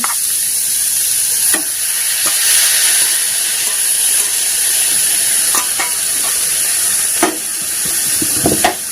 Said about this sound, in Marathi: छान परतून घ्यायची भाजी छान अशी परतून घेऊ